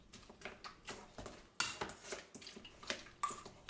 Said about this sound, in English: After I washed 3 3/4 cups, I mashed them